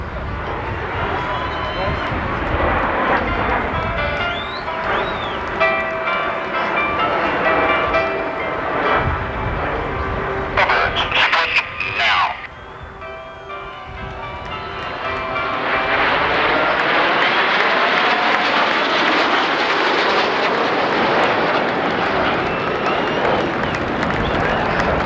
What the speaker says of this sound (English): The Snowbirds are preparing for their final maneuver in the show, the spectacular downward bombers